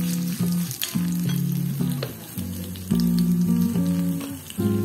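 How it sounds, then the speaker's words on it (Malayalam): Roasted coconut sizzles in a hot pan with fried onions and garlic while cooking Udupi onion sambar, a steady frying hiss running throughout alongside strong tonal sounds. "ഇതിലേക്ക് ഒരു 4 സ്പൂണ് നമുക്ക് വറുത്ത തേങ്ങയാണ് ഇട്ടു കൊടുക്കാം"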